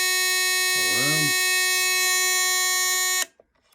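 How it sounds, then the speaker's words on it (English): A vintage Ademco MODULARM 130 local alarm unit's harsh, steady electric buzzer blares continuously, briefly overlapped by a voice, then cuts off abruptly, leaving quiet with a few faint clicks. "Alarm."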